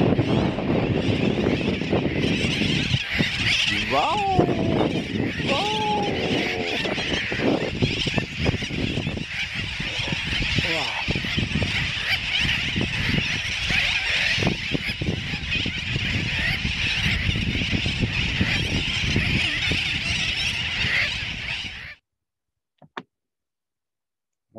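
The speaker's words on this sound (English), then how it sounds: "The birds." Dense colonies of seabirds call on remote Baker Island in the Pacific, a loud, continuous mass of honking and squawking cries near and far, ending abruptly; one person briefly exclaims.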